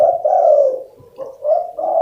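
A spotted dove, a tekukur, coos up close in loud, hollow, low phrases, two cooing bursts separated by a brief pause.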